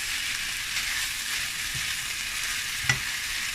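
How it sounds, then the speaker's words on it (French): Bamboo shoots fry and hiss steadily in a pan with chicken while being stirred quickly, a continuous close sizzle marked by a single sharp scrape or tap of the utensil, with no talking. "Et donc là on va rajouter nos pousses de bambou. On remue un peu vite."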